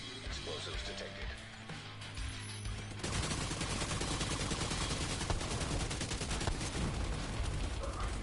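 Gunfire in The Division 2 breaks out after a quieter stretch and then keeps going as dense, continuous bursts of automatic weapons, loud and close, with other game sounds running underneath.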